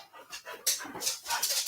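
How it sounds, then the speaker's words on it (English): Several dogs pant in quick, breathy rhythmic bursts close by, with a few soft whimpers mixed among the huffing breaths. "Nutty dogs."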